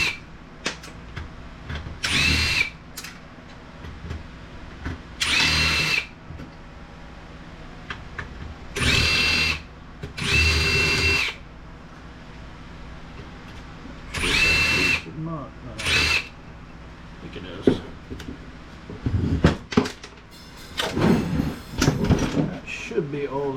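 A power drill spins screws out of a QSC amplifier chassis being scrapped for metal, several loud whirring bursts of a few seconds each separated by clatter and handling noise, with someone talking in between.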